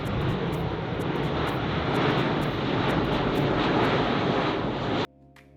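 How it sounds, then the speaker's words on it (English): Airplane engine roaring steadily overhead near a beach in Portugal, a loud, continuous broadband drone that holds for about five seconds before cutting off abruptly, with no talking. "There's a plane coming, so it's a little bit loud"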